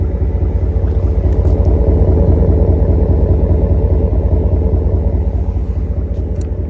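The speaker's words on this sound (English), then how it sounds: "Ram with just a muffler delete, no long tube headers, nothing really done to it, like just simply a muffler delete." A Ram with a 5.7 Hemi V8 and a muffler delete idling steadily, a deep, loud, even low-pitched rumble with a fast regular exhaust pulse, heard close and alone without talking.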